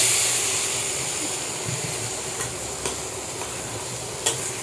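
Room-temperature milk is stirred in a pan over a low gas flame. A steady hiss lies under a few light scraping clicks from the spoon, and the sound is close and quiet, with no talking.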